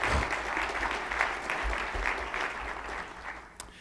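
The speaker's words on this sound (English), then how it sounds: "That probably deserves an applause." Audience applause at a 2018 State of the City address, steady clapping from a large crowd filling the whole stretch at an even level, then tapering slightly at the end.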